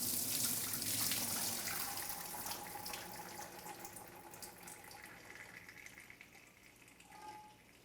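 Tap water runs steadily over soaked dry beans as they are rinsed in a sink, a soft continuous splash that is strongest at first and then eases a little toward the end.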